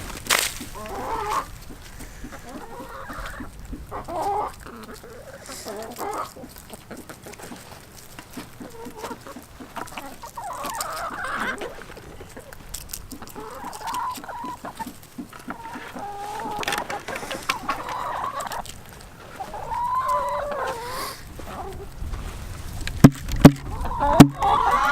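Older farm chickens cluck and chatter steadily while pecking at tossed dinner and breakfast table scraps. The calls are close and keep overlapping throughout, with a few sharp pecks or knocks near the end.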